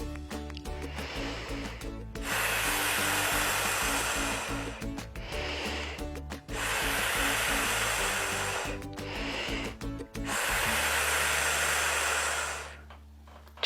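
Children use their voices to imitate a hand pump inflating a wheel, making long breathy hissing bursts, each about two seconds, separated by short pauses.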